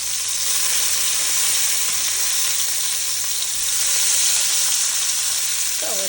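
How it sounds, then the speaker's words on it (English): Bacon frying in a pan, a steady dense sizzle and crackle that stays loud and close throughout, with no talking. "So we're frying up a little bit of bacon."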